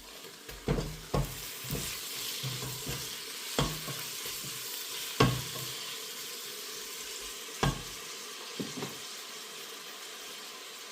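Chicken breast pieces fry in a pot for a rice kabsa, a steady sizzle under repeated sharp clatters of stirring, no voices.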